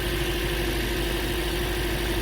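A car engine idles at an abnormally high, steady pitch, a constant droning hum with a sharp tonal whine and no pauses; the car has a misfire and an air-fuel ratio fault.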